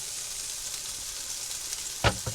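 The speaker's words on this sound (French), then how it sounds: "On secoue un peu." Crisp cooked fries tossed in a Cecotec air fryer basket, a steady dry sizzling rattle throughout that ends in a sharp, louder clatter and a brief knock near the close; no talking.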